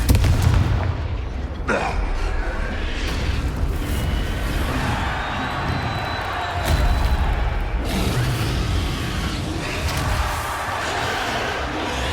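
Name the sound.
Confringo and Stupefy spells cast in Hogwarts Legacy video game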